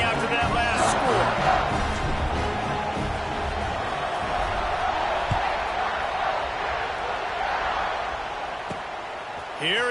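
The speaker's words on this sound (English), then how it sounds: "this crowd is buzzing after that last score" A football stadium crowd roars and buzzes in a dense continuous wall of noise, loud and sustained throughout, with scattered cheers and whoops rising above it.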